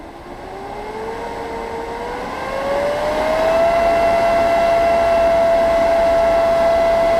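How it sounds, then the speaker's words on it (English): A Kadrmas 2x72 belt grinder with a totally enclosed fan-cooled motor spins up and runs, a steady smooth whine rising in pitch over the first few seconds and then holding level and loud with no talk. "So I'm going to turn it on so you can kind of see how smooth it is, and it doesn't wobble or anything."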